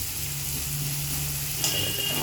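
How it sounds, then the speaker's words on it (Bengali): Onions soften in a hot wok of fish oil and plain white oil with salt, making a constant, even hiss and sizzle with a low steady hum beneath, one brief brighter burst near the end, and no voices. "মাছের তেল আর নর্মাল কড়াইতে নর্মাল সাদা তেল, প্লাস নুনটা রয়েছে, সেই 3-4টা মিলে পেঁয়াজটাকে গলিয়ে নরম নরম করে দেবো।"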